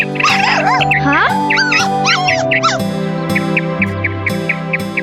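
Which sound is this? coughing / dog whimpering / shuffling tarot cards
dog whimpering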